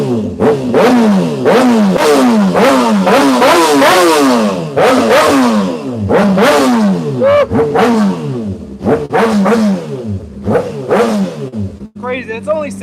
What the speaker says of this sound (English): So let's get some revs in this Jimmy Jansen.